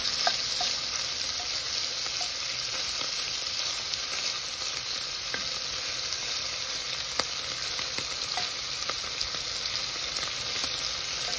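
Pieces of meat for a stew fry in a cast iron pot, a steady, even sizzle with scattered small crackles and pops throughout.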